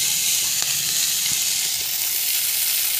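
Chopped fenugreek leaves sauté in hot ghee, giving a dense, even, close sizzle that holds steady throughout, with a few faint stirring knocks and no talking.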